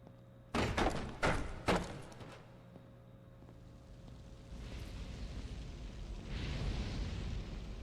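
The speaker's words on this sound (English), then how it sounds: "That exploding barrel." In a horror game, an exploding barrel goes off as a cluster of sharp, loud thuds and bangs in quick succession, then dies away into a low rumbling ambience with no voices.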